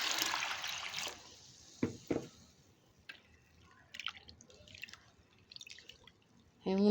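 Water drips and splashes a few times, close and fairly clear over a quiet background, while the soaking water is changed on old wheat grains steeped for days.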